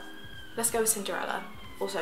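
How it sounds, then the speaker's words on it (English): A faint police siren wails steadily in the distance in London while someone talks over it. "sorry about the police siren, it's London."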